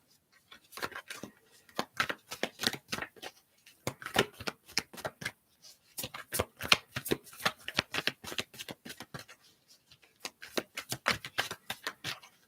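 Tarot cards are shuffled by hand in repeated quick riffling bursts, crisp and close, with short pauses between rounds and no talking over them.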